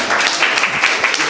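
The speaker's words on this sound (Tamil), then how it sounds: "கரகோஷம் எழுப்புங்க" Audience applause at a stage event as a guest singer is invited up, a dense steady wash of many hands clapping, loud and continuous throughout with no voices standing out.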